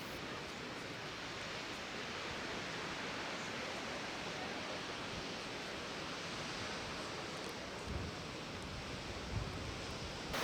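Steady, broadband roar of Månafossen, a large Norwegian waterfall, heard from a viewpoint near its base; the dense rushing hiss holds constant throughout with no speech.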